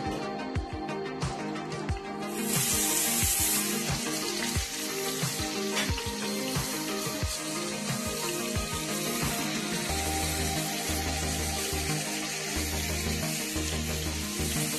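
Chicken pieces for tandoori chicken fry in hot oil in a pan, giving a loud, constant sizzle with occasional clinks and stirring sounds mixed in.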